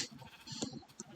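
Sheep bleating in Minecraft, a short faint bleat in the middle with a second brief call near the end over low game background, no talking.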